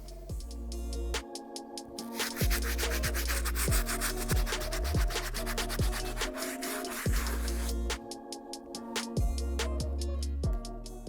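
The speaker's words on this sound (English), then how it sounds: "I'm gonna show you guys using the stiff bristle brush how well this brush works" Stiff bristle brush scrubbing grimy Air Jordan 1 sneaker midsoles, a close, rhythmic raspy back-and-forth scratching in quick strokes, pausing briefly twice.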